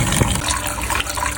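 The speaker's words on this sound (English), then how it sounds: "we pour detergent, and then we open the water and let it running for 15 minutes." Tap water running in a lab sink to rinse plant explants after detergent, a steady splashing gush that stays level throughout with no talk over it.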